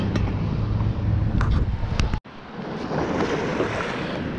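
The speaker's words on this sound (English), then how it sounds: "You can see there's an outer bar right there where the waves are breaking." Surf pounds steadily on an outer sandbar offshore, a broad continuous roar of breaking ocean waves with wind buffeting the microphone and a brief dropout midway.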